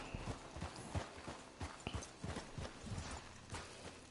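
Steady clip-clop of horse hooves trotting along in Red Dead Redemption 2, a rhythmic series of soft hoof strikes at moderate, even pace, fairly quiet.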